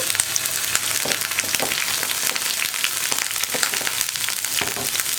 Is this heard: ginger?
yes